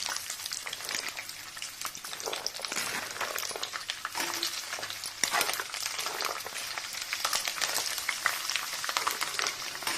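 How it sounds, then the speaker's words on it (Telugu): Garlic cloves frying in a shallow tempering of hot oil with mustard seeds for tomato pickle; a soft, continuous crackling sizzle with occasional stirring scrapes, close and fairly quiet. "ఈ ఎల్లిపాయలు కూడా తాలింపులో వేసుకుంటారు"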